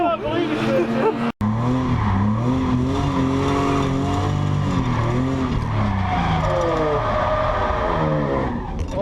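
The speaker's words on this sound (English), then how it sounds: "You were still drifting on the straight." A drifting car screeches its tires in a long, loud, wavering squeal, the engine revving and changing pitch as it slides, while people talk and shout excitedly nearby.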